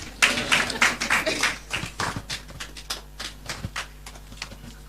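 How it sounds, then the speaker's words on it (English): A seated audience claps at a community advocacy event about sanitary pad taxes and school attendance, the dense early burst thinning into scattered, uneven claps that trail off over several seconds in a roomy hall. "Please keep clapping so I can buy some time."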